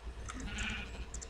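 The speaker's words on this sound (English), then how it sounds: "Oh, shut it, sheep." A sheep in the Minecraft video game bleats, a short wavering cry amid a dense, noisy game soundscape.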